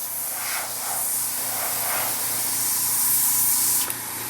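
Tamiya Spray Work HG airbrush spraying paint for tank camouflage: a continuous close airy hiss with a faint low compressor hum beneath, swelling slightly in a few soft pulses before cutting off near the end.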